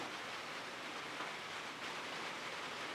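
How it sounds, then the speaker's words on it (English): Rain falling in the background makes a steady, even hiss, faint and unbroken, with no other distinct sounds. "that noise in the background is rain"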